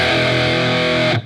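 Distorted electric guitar power chord from a song rings loud and sustained for about a second, then cuts off abruptly.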